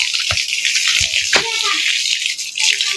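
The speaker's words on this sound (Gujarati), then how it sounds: "પાણી પાય છે ભાઈ વાડામાં" Water gushes out to irrigate a farm plot, a continuous close splashing hiss broken by a few brief knocks and rattles.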